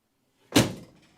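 Driver's side door of a Crew Cab Charger with worn shims being shut, a single sharp slam with a short rattling tail, heard close and alone after a moment of silence.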